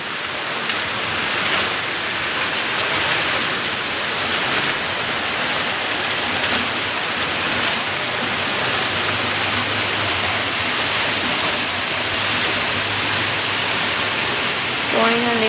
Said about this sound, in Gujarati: બહુ જ વરસાદ આવવા મળ્યો